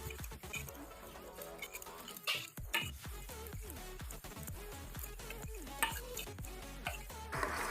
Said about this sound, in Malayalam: ഒന്ന് നന്നായി ഇളക്കിയതിന് ശേഷം നമ്മുടെ ജലാറ്റിൻ അലിഞ്ഞ് ചേർന്നിട്ടുണ്ട്